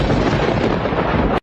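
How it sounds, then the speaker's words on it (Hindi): Deep, continuous roar of thunder with heavy rain in a devotional drama scene, loud and dense throughout before cutting off abruptly. "ये बिना मौसम की गरजती हुई बारिश हमें क्या संकेत देती है?"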